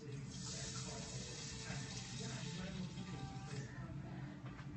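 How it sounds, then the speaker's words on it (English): Water pours steadily into a pot of basmati rice in a home kitchen, a continuous rushing splash for about five seconds, close and fairly loud. "And to that, we're going to add our 4 cups of water."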